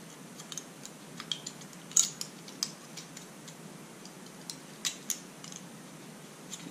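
Scissors snip into a thin aluminium drink can, giving a series of faint, sharp clicks and crunches at irregular intervals against a quiet background.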